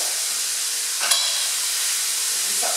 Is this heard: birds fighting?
no